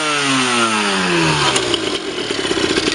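A Sherco 50 motorcycle engine runs close and loud, its revs falling smoothly from a higher pitch into a rough, pulsing idle.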